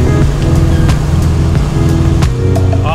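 A Porsche 944 Turbo cruises on fresh Firestone Indy tires, its engine a steady, loud droning hum under constant road and tire roar with no break and no voices.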